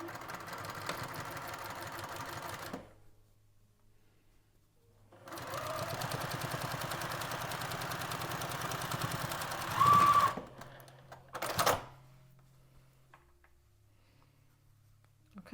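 Sewing machine stitching a 5/8-inch seam with backstitching at each end, a steady mechanical whir in two long runs separated by pauses, with short bursts near the end; no talking over it.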